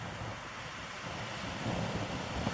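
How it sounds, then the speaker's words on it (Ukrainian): Sea waves washing onto the beach at Terracina, a steady broadband surf roar with some wind rumble, continuous and fairly close, with no talk. "Хвилі великі, як для мене."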